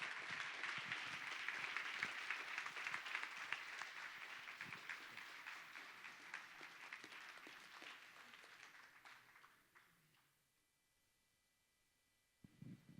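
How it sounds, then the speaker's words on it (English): Sustained audience applause at a community storytelling event on art and healing, a dense wash of clapping from a full room that slowly thins and fades to near silence, then a few scattered claps return. "let's have another round of applause for all the storytellers"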